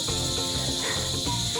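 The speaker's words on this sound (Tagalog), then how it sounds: "Yung tunog ng gangis." Crickets chirp at night in a dense, continuous high-pitched trill with steady pulsing layers. A low hum sits beneath it and nobody speaks.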